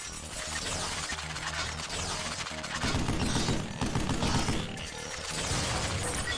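Weapon fire in the Vanquish shooter game, a mechanical ratcheting clatter that swells into heavier, rapid bursts of shots partway through, loud and continuous without talk.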